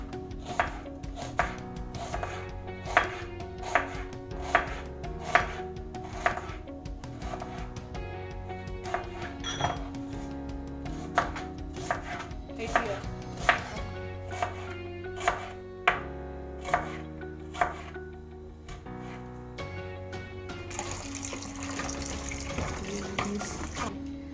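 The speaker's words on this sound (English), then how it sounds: "I am going to start by cutting my ingredients, which as usual, the first one is the onions" Knife chopping onions for a beef stew on a cutting board, a steady series of sharp close knocks through most of the stretch, with running tap water near the end.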